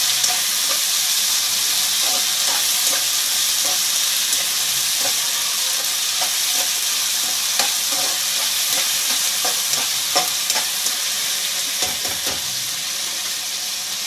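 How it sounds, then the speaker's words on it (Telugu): Ginger paste frying in hot oil in a pan for a shrimp fry biryani, a loud, steady sizzle with stirring scrapes and faint ticks running throughout, close and without speech. "ఒక స్పూను అల్లం పేస్ట్ అయితే వేసుకొని, అది కూడా నూనెలో పచ్చివాసన పోయేంత వరకు కూడా బాగా వేగించుకోవాలి."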